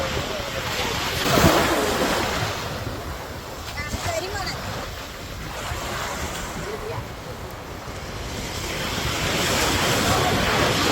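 Sea waves washing over feet at a beach, a steady broadband rush of surf mixed with wind buffeting the microphone, with faint voices briefly audible in the background.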